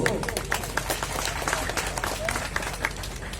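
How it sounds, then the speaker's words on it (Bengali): Scattered applause from an audience at a police-station event handing cheques to puja committees, a rapid patter of hands with talk and crowd noise mixed in. "একটু হাততালি হবে তো"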